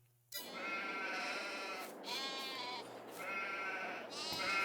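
Several sheep bleat in Farming Simulator 22, long wavering calls following one another almost without pause, loud and close with no talk over them.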